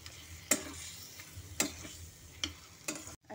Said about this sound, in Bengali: পাঁঠার মাংসটা দিয়ে ভালো মতো করে কষে নেব।